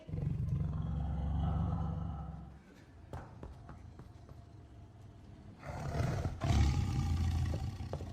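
A tiger gives deep, rumbling roars in two long bursts separated by a quieter gap, loud and close.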